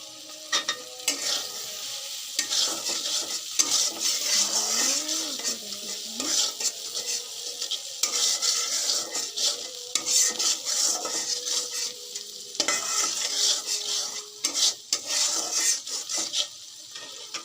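Chopped onion fries in a pan for spicy pasta with a strong, steady sizzle, under frequent scraping and clinking as a spatula stirs it against the metal. Nobody talks.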